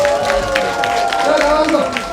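At a citizens' forum on household waste and recycling, an audience claps in a steady rhythm to welcome a group's presentation, while a voice talks over the clapping.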